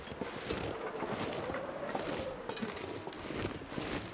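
Wind blowing steadily across an open landscape in The Long Dark survival game, a continuous broadband rush with gusty surges, moderately loud, with no talking over it.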